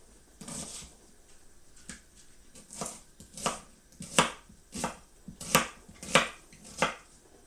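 A knife cuts the cores out of an onion on a board, about a dozen crisp, close chopping taps that start sparse and then fall into a steady, quicker rhythm.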